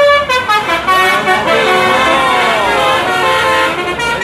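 Toy city bus sounding a series of bright, tonal electronic horn toots and melodic beeps, loud and close, filling the whole moment with little pause.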